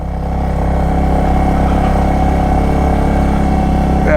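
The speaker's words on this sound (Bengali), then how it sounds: "মোটরসাইকেল আসে না, ফার্স্ট গিয়ারে যাইতে হইব" A motorcycle engine strains in first gear while climbing a steep hill, producing a loud, continuous low drone that holds steady throughout with no pauses or talk.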